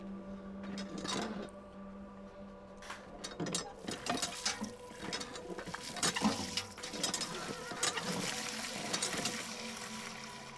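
An old well mechanism in the video game Beyond Two Souls creaks and ratchets with uneven clicks, clanks and grinding, fairly faint and close, with a low steady hum underneath.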